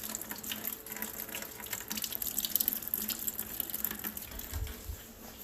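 Steady rushing, splashing flow of hydraulic fluid draining from the pump of a modified Allis-Chalmers D-19 diesel tractor during disassembly, continuous and moderately close with faint workshop clatter.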